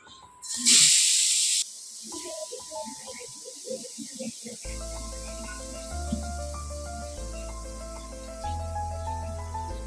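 Grated carrots, four or five of them, hit a hot pan with ghee for carrot halwa, giving a sharp loud hiss that quickly settles into a steady softer sizzle under background music.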